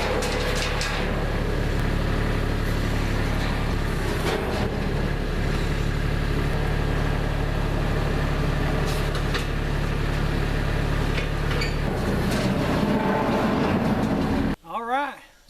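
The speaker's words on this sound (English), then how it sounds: "now let's get the tractor involved and get these axles out of there." A tractor engine runs steadily while pulling axles out from under a sawmill, a continuous loud mechanical drone with occasional clanks, ending abruptly in a brief quieter moment.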